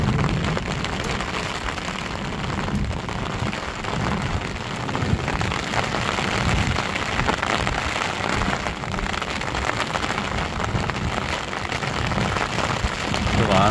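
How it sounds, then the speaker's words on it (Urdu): Steady rain falls over a hilly village, a dense, continuous hiss of drops on surfaces at fairly strong volume, unbroken for the whole stretch. "میرے گاؤں میں بارش ہو رہی ہے۔"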